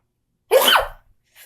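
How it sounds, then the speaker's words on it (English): A single deliberately strange sneeze from a person bursts out loudly and close, a brief harsh blast with a pitch sweep, followed by silence and a faint breath. "but I can make myself sneeze weird"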